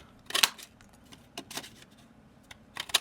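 Paper cutting for a handmade get-well card, with a few crisp, close snips in short bursts and quiet pauses between them.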